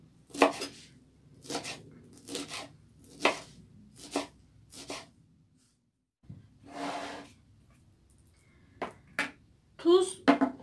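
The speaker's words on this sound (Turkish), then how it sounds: "Kekik, nane, dereotu hepsini bir doğrayayım." A knife chops fresh thyme, mint and dill on a board in a home kitchen, a few spaced bursts of cutting strokes with short pauses between, close and moderately loud.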